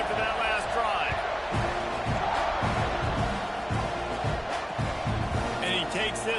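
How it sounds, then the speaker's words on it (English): A packed football stadium crowd at a Florida State versus Texas A&M game keeps up a loud, steady roar of cheering through the whole stretch, a dense wash of many voices with no break. "this crowd is feeling themselves after that last drive"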